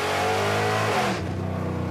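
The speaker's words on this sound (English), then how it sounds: "this thing is famous for its wicked exhaust note" A muscle truck's loud, wicked exhaust note as the engine revs hard, close and dense, then the pitch drops and settles into a lumpy, throbbing idle.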